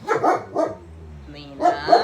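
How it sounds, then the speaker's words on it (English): A dog barks in a few short, close, loud bursts with a brief whimpering yip between them, while a person talks over the barking. "Sorry, excuse the dog barking."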